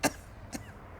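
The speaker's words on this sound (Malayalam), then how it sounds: "സ്ട്രെയിൻ എടുത്ത് സംസാരിക്കുമ്പോഴാണ് ചുമയ്ക്കുന്നത്." Two short coughs in a movie scene, the first sharper and louder, the second weaker about half a second later, close and alone against quiet room tone.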